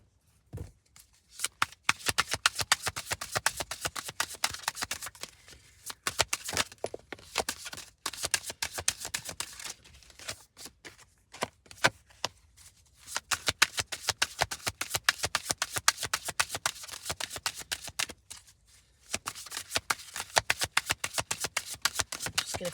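Tarot cards are shuffled by hand in long runs of quick, crisp riffling flicks, broken by short pauses, close and fairly quiet.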